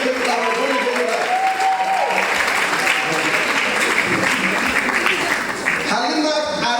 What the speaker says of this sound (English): I want to get clap.